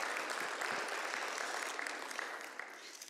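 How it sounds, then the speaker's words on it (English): A church congregation gives a sustained round of applause that stays full and close before gradually thinning out toward the end, with no talking. "would you give Heidi another round of applause?"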